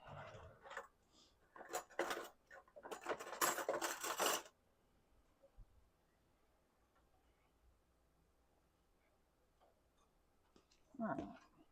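Canned cream of soup whisked into a mixture, a quick flurry of metallic clinks and scraping against a bowl up front, then quiet, with a brief clatter at the end.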